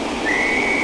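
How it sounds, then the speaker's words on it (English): A loud train whistle sounds from a Class 86 electric locomotive on the West Coast Main Line at Shap, a single steady high tone held for under a second. "that's quite a loud whistle"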